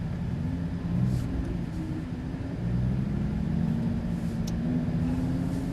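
Lamborghini Huracan LP610-4 pulling away at low speed on a driving course, its engine a steady mid-pitched rumble that swells slightly as it moves off, continuous and fairly close.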